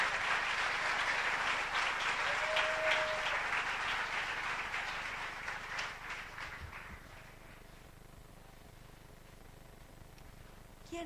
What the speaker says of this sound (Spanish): Aplaude a tu Señor y dale gracias.